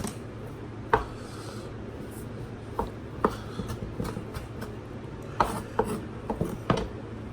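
A knife chops parsley on a cutting board, producing scattered, uneven taps and scraping strokes at close range over a steady background hum, with no talking.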